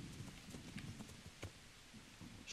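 Horse hooves clip-clop softly in the medieval video game Kingdom Come: Deliverance, uneven and faint over a steady hiss of ambient noise, with no talk.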